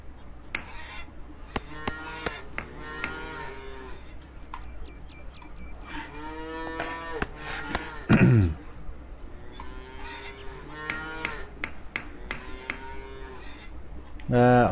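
Cattle in the farming game Farmers Dynasty moo repeatedly in long drawn calls, overlapping and recurring every few seconds, with a couple of louder honk-like bursts standing out.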